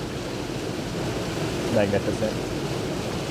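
A steady, broadband roar of the Hull Creek Falls waterfall in Pennsylvania pours past winter icicles, swelling slightly midway as a single spoken word rises over the rushing water.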